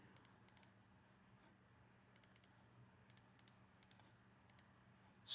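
Light plastic clicks of keys pressed on a calculator keypad during calculus work, coming in short irregular bursts of two to four taps with quiet gaps between, close and fairly faint.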